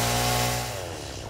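A chainsaw cutting wood in the factory-building game Satisfactory buzzes loudly for a moment, then its revving drone tapers off quickly.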